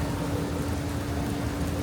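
Steady rain falls outdoors as a constant, even hiss of drops with a low rumble beneath, loud and close throughout, with no voices.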